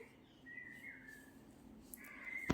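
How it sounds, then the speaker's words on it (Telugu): Birds chirp in a garden behind a house, sending out faint, thin whistled calls against a quiet indoor background, with a soft tap at the very end. "మీకు బర్డ్ సౌండ్ వినిపిస్తుందేమో మాది యాక్చువల్గా వెనకాల గార్డెన్ ఉంటుంది"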